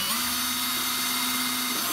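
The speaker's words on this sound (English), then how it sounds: "I'm just going to drill it very quickly." A steady high-pitched power drill whine runs continuously for nearly two seconds while drilling a carton bird feeder, then winds down at the end; no voices.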